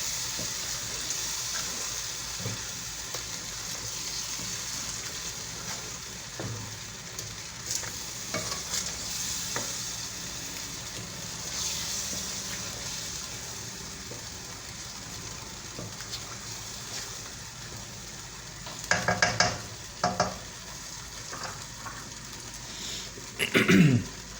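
Spaghetti with white sauce cooks in a pan, a steady soft sizzle running throughout with occasional spoon stirs and scrapes, louder clatter near the end, and a brief throat clearing.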